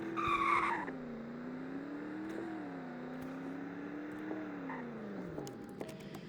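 A V8 car launches in a 0 to 60 acceleration run, with a short tire chirp at the start and then a steady engine drone climbing in pitch through gear changes, close and continuous.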